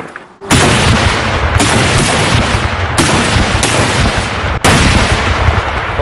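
Explosive charges detonated in a pit during bomb disposal training, a series of loud, heavy blasts in close succession, each a sharp boom with a rumbling tail, no voices.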